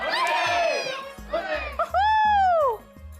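A group of voices shouting loud hurrahs in three rising bursts, giving three cheers for an elderly performer at a wedding music celebration, with close, bright, overlapping cries.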